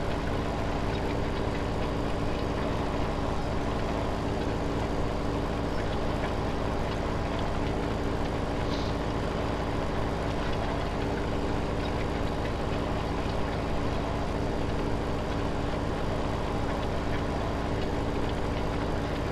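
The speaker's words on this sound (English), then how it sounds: "I do really like this tractor" A tractor engine in Farming Simulator 17 drones steadily while pulling a cultivator across a field, a loud, even low rumble with no change in pitch.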